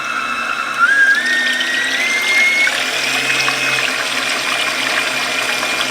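Electric hand mixer with whisk attachment whipping organic heavy cream in a bowl, a steady high whirring drone that rises in pitch early on and holds at a constant level throughout, with no talking.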